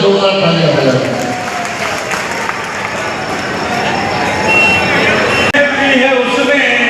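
An audience at an all-India mushaira at the Nauchandi fair in Meerut claps steadily and densely for several seconds, with crowd murmur mixed into the sustained applause.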